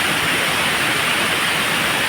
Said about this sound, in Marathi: हा वॉटरफॉल आहे